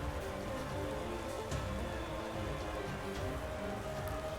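Steady rain hiss in a Pokémon video game battle, a dense, even wash of falling rain under layered in-game music, with no voices over it.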